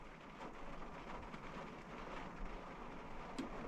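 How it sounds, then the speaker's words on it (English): Rain falling steadily, a soft continuous hiss with low rumbling, faint and uninterrupted, with no talking. "I'll let you listen to the rain for a second."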